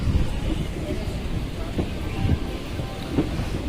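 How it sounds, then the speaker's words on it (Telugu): Steady rain seen from a moving train at dusk on a trip to Srikalahasti, a constant broadband hiss with low rumbling from the train and a few brief louder bursts. "వర్షం పడుతుంది."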